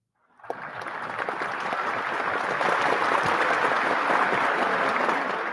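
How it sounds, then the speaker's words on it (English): A crowd bursts into applause for the DJ during a live DJ session, starting abruptly and then building into steady, sustained clapping that fills the rest of the moment. "we'll give you a round of applause"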